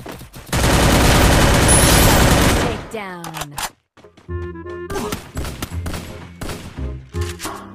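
Rapid automatic gunfire in the video game Free Fire bursts loud and dense for a couple of seconds, then gives way to scattered shots, thuds and game effects with voices mixed in.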